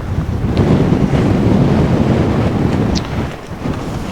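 Gusts of wind over 20 mph batter a Nortent Vern 2 tent pitched outdoors, producing a loud, continuous rushing roar that eases briefly near the end.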